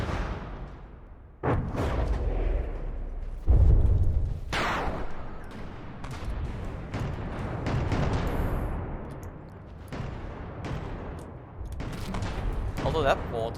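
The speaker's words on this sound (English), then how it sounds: "that mortar, it's still trying. There is still one mortar remaining." Mortar and gunfire in a video game battle royale, a string of heavy booming shots and sharp reports that goes on throughout, with someone talking under the blasts.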